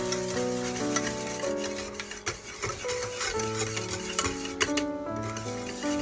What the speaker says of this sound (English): we remove from the microwave and mix this whole thing properly again